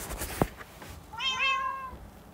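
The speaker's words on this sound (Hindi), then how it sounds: "उससे बिना पूछे तुमने बिल्ली पाली?" A cat in the Minecraft video game gives a single clear, rising-and-falling meow just after a short click, alone and close.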